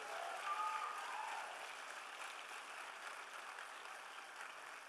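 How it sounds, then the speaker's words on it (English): Audience clapping at an Assemblies of God district conference evening session in Hawaii after a new treasurer's election, a steady, fairly faint wash of applause that holds for the whole stretch. "Wait, you guys, keep clapping."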